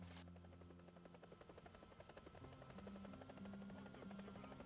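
An attack helicopter in a Garry's Mod Star Wars RP game beats steadily overhead, a rhythmic rotor chop with a constant buzzing drone, loud and close throughout, with no talking.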